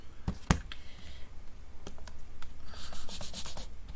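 A rubber stamp is scrubbed on a cleaning scrub pad at a papercraft table: a sharp click near the start, then close, steady scratchy rubbing strokes with no talking.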